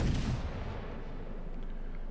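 A heavy naval gun fires from the French battleship Flandre in a naval combat game, a single loud boom up front that decays into a long low rumble with no voices.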